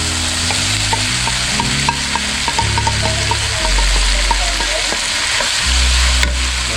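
Pork stir frying in a pan for a Filipino broccoli stir fry: a loud, steady close sizzle with scattered crackles and pops throughout, no voices.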